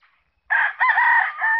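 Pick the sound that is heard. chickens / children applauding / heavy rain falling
chickens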